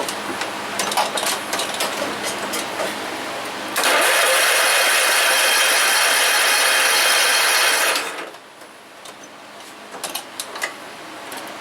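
A John Deere RX75 riding mower engine cranks hard and tries to fire, a loud, steady grinding burst of a few seconds with rougher cranking noise before and after it, close and without talk.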